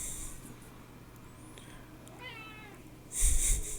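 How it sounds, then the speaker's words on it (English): A pet cat meows a couple of times indoors, short nasal calls close by, followed by a louder bump or rustle near the end. "This fucking cat."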